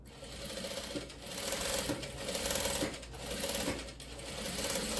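An electric sewing machine stitching close to the edge of fabric for a tote bag: a continuous fast mechanical whirring and clatter, close and steady, swelling slightly in intensity across the run.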